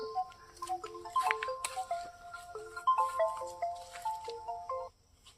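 A mobile phone rings with an incoming call: a melodic electronic tune of stepping notes plays steadily for about five seconds, fairly close and clear, then stops, with no talking over it.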